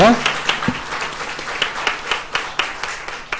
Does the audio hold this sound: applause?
yes